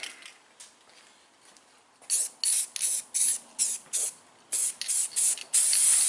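Spray paint hisses from an aerosol can in a series of about ten short bursts, laying another coat on a rebuilt 350 engine in a 1978 Chevy C10 truck after a quiet stretch of faint handling noise.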